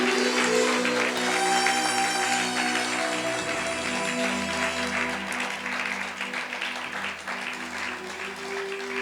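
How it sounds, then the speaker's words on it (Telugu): Loud clapping from a congregation at the closing meeting of a 21-day church fasting revival, sustained over a held musical drone that drops and thins partway through. "గట్టిగా చప్పట్లు"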